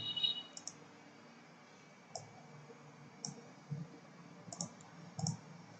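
Sparse computer mouse clicks and light key taps while editing a research paper's references, a few isolated clicks spaced irregularly over quiet background, mostly alone with no talk.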